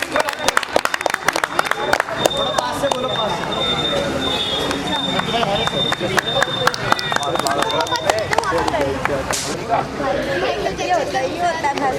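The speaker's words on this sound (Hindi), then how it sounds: "तालियां तालियां।" An audience at a Ramlila award function claps in a dense, continuous burst of applause mixed with crowd chatter and babble, with a brief whistle near the end.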